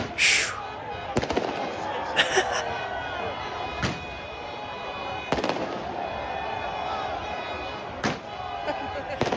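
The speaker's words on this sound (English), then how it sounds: "Oh, okay, those are fireworks." Fireworks and firecrackers bang during England football fans' celebrations at the final whistle in London: scattered loud sharp cracks and pops over a constant street crowd roar, with voices nearby.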